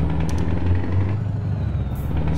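Engine of a new truck idling with a strong, continuous low-pitched drone and a faint hiss above it, heard up close from the cab.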